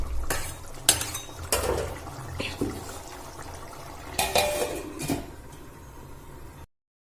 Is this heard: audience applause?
no